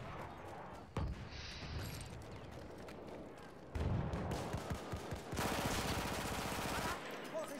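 Assault rifle fire in Battlefield 1, bursts of rapid shots in a busy battlefield mix, with a loud sustained burst near the end and heavier thumps earlier, under occasional voices.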